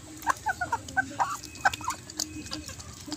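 Backyard chickens in a growing flock cluck in short, repeated bursts at close to middle distance, with a steady low farmyard rumble underneath and no talking.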